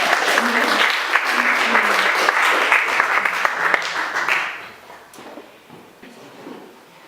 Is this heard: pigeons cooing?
no